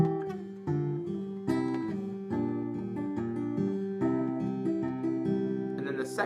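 Acoustic guitar fingerpicks the opening section of a song, a clear, close melody of plucked notes over a steady picking pattern, played alone.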